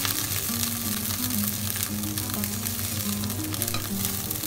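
Onions stir-fried in a pan, a steady close sizzle with scraping and stirring throughout, under a sustained background tone and with no speech.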